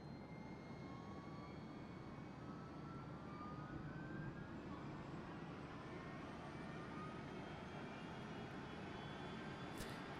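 Steady, loud roar of KLM Airbus A320neo jet engines in the X-Plane flight simulator, a continuous droning hum with faint rising whine tones, constant throughout.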